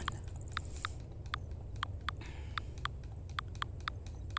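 Horse hooves clip-clopping at a steady walking pace in the farming game Farm Together 2, a regular run of crisp, moderately loud clicks over a low background hum, with no talking.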